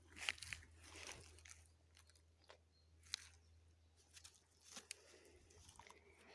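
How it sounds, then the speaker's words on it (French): A dog chews on a stick, giving scattered crunchy bites and gnawing cracks at close range over a quiet background with a low steady hum. "Ils adorent mâchouiller des bâtons."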